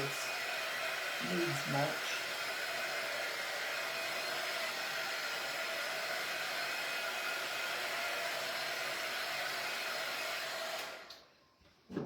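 A hair dryer blows steadily on a card, a constant close whooshing roar that cuts off near the end, with brief speech at the start.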